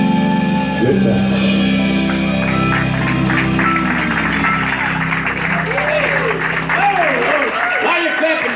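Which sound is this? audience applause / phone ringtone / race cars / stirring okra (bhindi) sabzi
audience applause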